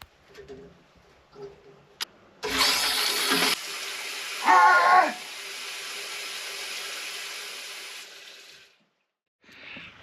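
A stretch of steady hissing cold shower water running, with a short cooing bird call and faint quiet sounds before and after, in Hyden, Western Australia.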